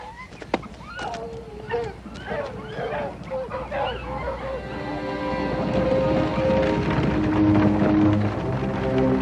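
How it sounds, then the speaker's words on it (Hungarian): Several dogs bark and yip excitedly at an approaching stranger, a burst of close, overlapping barks that gives way to a louder, sustained backdrop with sounds resembling voices and hooves. "Akkor ugatnak így a kutyák, ha idegen jön."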